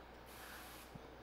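A touchless dispenser mists alcohol in a soft, steady spray hiss lasting well under a second, faint and close in a quiet room, with no talking.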